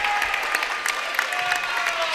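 Scattered clapping from a crowd at a boys' high school basketball game, steady and moderately loud across the gym, with crowd noise and murmured talk mixed in.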